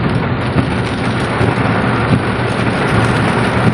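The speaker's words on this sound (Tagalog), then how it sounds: "Malupit ang ulan." Heavy typhoon rain from Typhoon Carina pours down in traffic, a loud, dense, continuous hiss with low rumbling underneath, steady throughout and close by, with no speech.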